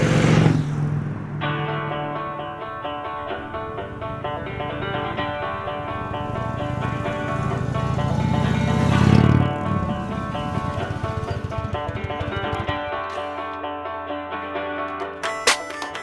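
An Indian Springfield cruiser motorcycle engine drones steadily for the whole stretch, rising briefly as the rider accelerates, with wind rush and no talking.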